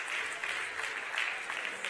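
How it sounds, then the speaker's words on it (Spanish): A chapel audience applauds volunteers with a dense, steady wash of clapping that holds evenly throughout. "Give a round of applause to all my volunteers."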